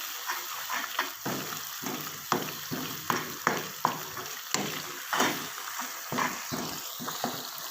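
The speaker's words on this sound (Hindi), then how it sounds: "अभी हम इसको 2 मिनट मज़ीद और भूनते हैं।" Masala for dhaba-style chana dal frying in a pan, with a steady close sizzle broken by repeated scraping stirs at an uneven rhythm, and no voices.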